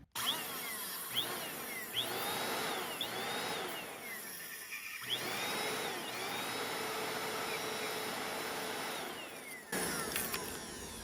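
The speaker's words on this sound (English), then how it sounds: "hold it like that, turn the machine on." A Bissell Compact 2112 vacuum cleaner, serviced for a loss of suction, runs with a steady close motor whine broken by rising and falling pitch sweeps as it is worked, then cuts briefly near the end, with no talking.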